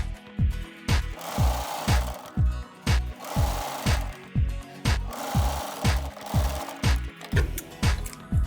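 A sewing machine stitches a folded fabric strap, its needle thumping in steady rapid bursts with short pauses between runs, close and clear with no talk.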